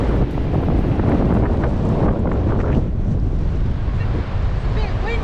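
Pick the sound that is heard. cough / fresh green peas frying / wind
wind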